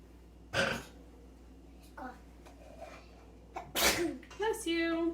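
A sharp, loud sneeze bursts out near the start from someone in a home kitchen while cooking with a toddler, followed by a second sneeze-like burst and a voice chattering.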